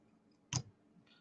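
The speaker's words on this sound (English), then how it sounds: "Then just cut it with the scissors." A single sharp snip of scissors cutting marabou wing material while tying a fly, close and brief, with a fainter follow-up click and quiet room noise around it.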